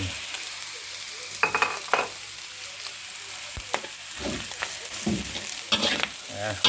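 Fried rice stir-fried in pork lard in a hot pan, a constant close sizzle with repeated scraping and clanks of a spatula against the metal.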